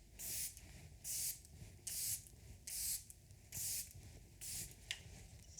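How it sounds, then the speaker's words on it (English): Short hissing bursts of setting spray misted onto a face, about six evenly spaced spritzes, close and soft in a quiet room. "I'm gonna put some glowy setting spray on your face."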